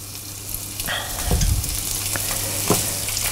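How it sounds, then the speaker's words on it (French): A duck foie gras escalope sizzles loudly in a hot frying pan, a continuous close hiss with a dull knock and stirring scrape as the piece settles. "Et là, on va poêler le foie gras."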